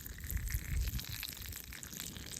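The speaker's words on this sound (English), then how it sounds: "I'm going to strain some of the water off of this" Water being strained off cooking rice in a pot at a campfire outdoors: a short splashing gush that peaks early, then thins into a lighter trickle and drip.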